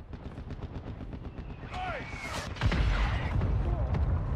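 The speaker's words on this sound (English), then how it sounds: "Our mortar strike is inbound." Gunfire and mortar strike explosions sound in the DMZ video game: rapid repeated shots, then a whistling streak and heavy booms landing close and loud, with a voice speaking over it.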